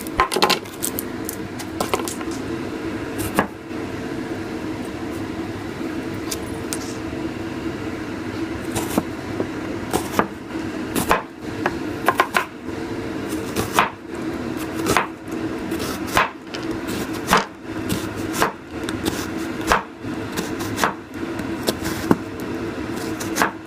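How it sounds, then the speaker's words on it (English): An onion being cut on a board for lemongrass pork chops, a long series of irregular sharp knife chops, close and distinct over a low background hum, without speech. "go ahead and cut an onion"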